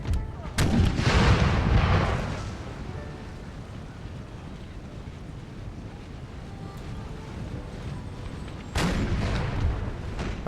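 Heavy booming video-game cannon fire from a First Battle of Bull Run scenario opens and closes the stretch, with a low rumbling wash of wind-like noise between the blasts.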